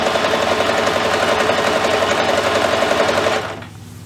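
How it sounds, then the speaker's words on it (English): A sewing machine chain-stitches fabric pieces for a kids' apron, running loud, fast and steady up close for about three seconds before stopping abruptly. "I just continue stitching onto the next piece."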